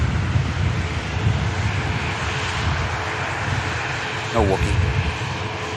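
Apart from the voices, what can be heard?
EasyJet Airbus A320 arriving from Geneva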